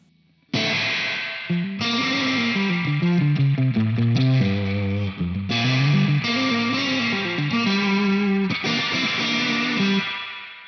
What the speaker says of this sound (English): The final thing that we can tweak is the little tone control for the reverb right here on top of the pedal. Now I'm going to turn it all the way